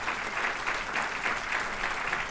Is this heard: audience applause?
yes